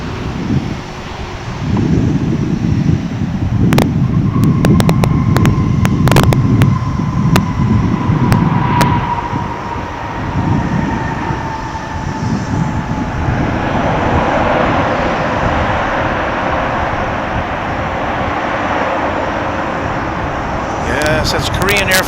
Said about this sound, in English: That's Korean Air Flight 31 coming in from Seoul. A 787-9.